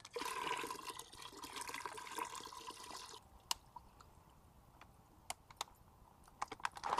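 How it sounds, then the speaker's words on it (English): Diatomaceous earth filter slurry made in a CelaPool bag pours into a swimming pool skimmer for the pre-coat, a steady watery rush for about three seconds that drops away, followed by scattered drips and light splashes. "We've made a slurry inside the CelaPool bag, and we simply pour it in the skimmer for the pre-coat."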